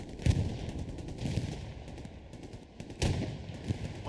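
Gunfire from the World War II shooter Hell Let Loose, with several bursts and single shots, some near and heavy and others more distant, echoing over a steady low background hum.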